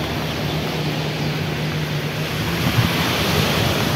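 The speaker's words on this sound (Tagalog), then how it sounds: "Tunog talaga ng tubig." Ocean surf rolls in steadily at a beach with a barbecue area, a loud, continuous wash of waves mixed with wind rumble on the microphone, and no voices.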